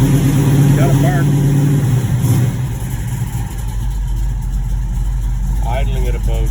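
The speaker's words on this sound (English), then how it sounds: "Idling at about 850." A 1972 Dodge Challenger with a 505 stroker big block idles at about 850 rpm, a loud, steady low rumble close by that carries through the whole stretch while a person talks.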